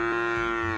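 A cow in the game Unturned gives one short, clear moo, close and loud, heard on its own.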